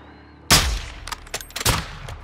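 Two sharp sniper rifle shots ring out in Call of Duty: Modern Warfare II, the first at about half a second and the second a second later, each a loud crack with a short echoing tail, with faint clicks between them.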